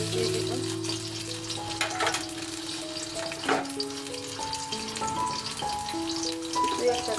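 Onions frying in hot oil in a home kitchen for biryani, a crackling sizzle with scattered pops and stirring sounds, moderately close, and a few clear tonal notes from music playing in the background.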